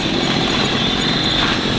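A Hercules Prima 2 moped engine runs steadily at close range, a constant buzzing drone with no change in pitch across the short stretch.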